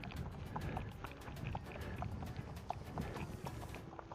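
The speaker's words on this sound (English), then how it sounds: "Here there is a horse there too" A horse's hooves clip-clop along a road on the way into town, a steady run of light, sharp knocks over constant outdoor rumble and wind noise.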